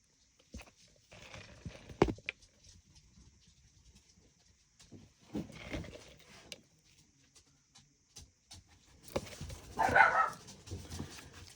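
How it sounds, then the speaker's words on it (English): Dogs bark in short bursts at a moderate distance, separated by quiet stretches, with a louder flurry near the end. "Sorry guys, noisy dogs today."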